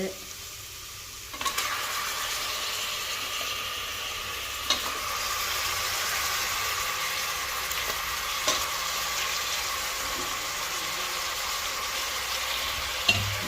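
Mutton frying and being stirred in ginger garlic paste for biryani, a steady close sizzle with occasional spoon scrapes, running continuously with no talk.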